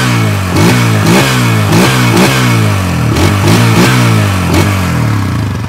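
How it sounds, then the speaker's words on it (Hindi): A 2023 Hero Xtreme 160R 4V 160cc motorcycle exhaust revs repeatedly, loud and close, with a series of sharp throttle blips rising and falling over a steady idle rumble. "कैसी रही एग्जॉस्ट की आवाज़?"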